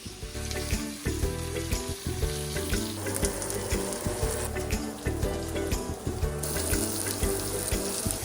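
A steak sizzles loudly and steadily in a hot pan as butter is spooned over it, with faint rhythmic clinks from the basting spoon running through the sizzle. No one speaks.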